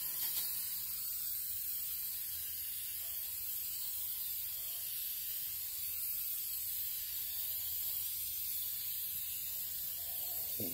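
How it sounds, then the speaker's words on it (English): Hydrovator activator is sprayed onto hydrodip film while hydrodipping a Corvette air cleaner: a steady, soft hiss of spray runs continuously and evenly, close but low in level, with no voices. "Then we're just going to spray that Hydrovator, let it sit for just about a minute"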